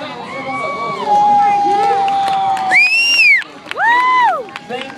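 A crowd at a fair cheers and whoops loudly for a juggling act, with shouts rising and falling over a lively background of voices.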